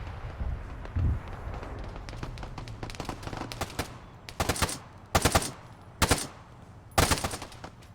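Gunfire in a Russia-versus-NATO military video game: several loud bursts of automatic fire in the second half, close and sharp, over a busy background of softer distant shots and rumble.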